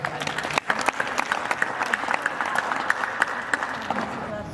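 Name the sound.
applause at wedding ceremony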